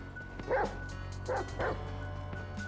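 Chop, the dog in GTA V, barks a few times in short bursts, a couple of quick yaps close by over a steady low background hum.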